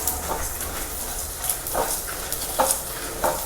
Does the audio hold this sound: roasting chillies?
yes